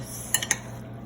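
Roasted chicken thighs and potatoes with seasoning being mixed in a dish, a few brief metal-on-dish clinks and scrapes in a quiet kitchen with no talking.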